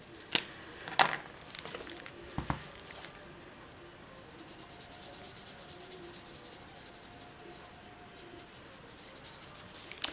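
Wink of Stella glitter brush pen brushed onto a cupcake on a handmade pop-up card, a soft, close scratching and rubbing with a few sharp taps early on, then quiet faint strokes.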